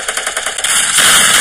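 Rapid gunfire in a battle royale video game, where a double-barrel shotgun downs an opponent; a dense burst of shots rattles in a quick rhythm, then gives way to a loud, sustained wash of noise.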